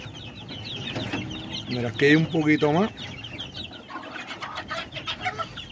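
Young chickens peep and cluck in a brooder among about fifty developing birds, with a brief burst of louder calls midway, while someone talks close by.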